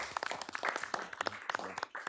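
Audience at a pre-commission meeting clapping for the Montgomery brothers, brief, quiet scattered applause from a small crowd.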